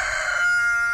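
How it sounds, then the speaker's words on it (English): A backyard rooster crows once, close and loud, in a single short cock-a-doodle-doo. "That's the rooster."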